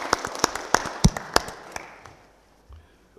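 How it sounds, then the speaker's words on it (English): An audience at a micro-entrepreneurship panel event gives the panelists a short round of applause, a handful of sparse, sharp claps over about two seconds that fade out into a quiet room. "Let me ask everyone for a round of applause for the panelists."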